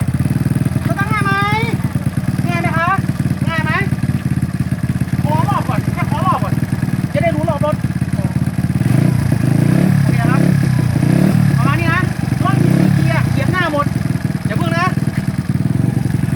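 A Honda Wave 100 S motorcycle engine runs with a steady low chugging idle that continues throughout, while people talk nearby over it.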